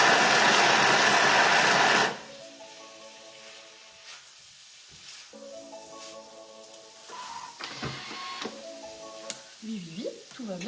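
A Thermomix blends celery at speed 5 with a loud, dense whirring roar that lasts about two seconds and then cuts off abruptly, leaving quieter tonal, voice-like sounds.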